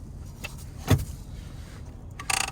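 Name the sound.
foot-operated parking brake pedal of a 2021 Honda Passport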